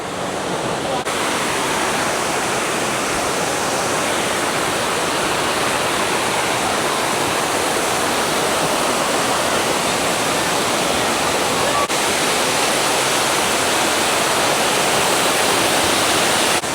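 A steady, full rush of falling water from a waterfall at Cat Cat Village, Sapa, Vietnam, roars continuously, close and loud, with no break or change.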